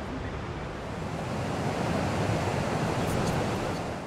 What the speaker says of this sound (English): The Nile is a lot better than other places because there's not as many rocks, but there's way more waves.